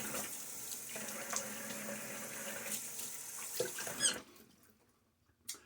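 A tap runs at a sink to rinse a razor during a wet shave, a soft steady stream with a few splashes and squeaky clicks before it shuts off into near silence.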